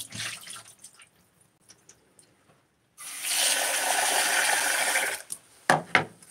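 At a home kitchen sink, soup ingredients are rinsed under a loud, close stream of tap water that runs for about two seconds, framed by faint clinks and a few splashy drips afterward.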